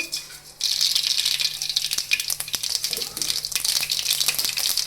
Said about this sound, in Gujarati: તો આપણે તેમાં રાઈ એડ કરી દઈશું